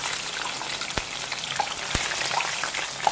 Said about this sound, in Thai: อ่าอันนี้สุกแล้วทอดทีละหน่อยอะค่ะ